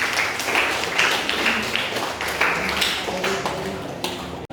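A classroom of students claps together after a correct answer, a dense burst of applause that rises and falls in waves for several seconds before cutting off abruptly.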